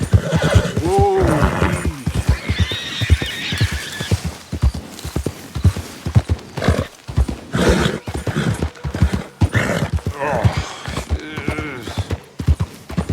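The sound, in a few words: horse neighing and hooves, from video game Red Dead Redemption 2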